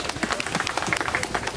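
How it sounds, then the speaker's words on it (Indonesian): A church congregation at a building inauguration claps steadily for a short stretch, the sound fairly distant and diffuse with a light crowd murmur underneath. "Tepuk tangan."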